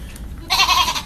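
A person imitates a goat, giving one short nasal bleat on a live radio stream, loud and close after a quiet, murmuring start.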